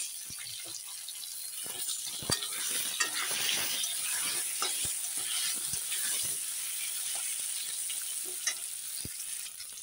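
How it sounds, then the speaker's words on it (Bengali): Potatoes frying in a pan for a home fish dish, a bright steady hiss of sizzling oil with occasional sharp clicks and scrapes from a utensil, close up, no voices. "আলুগুলো ভালো করে ভেজে নেব"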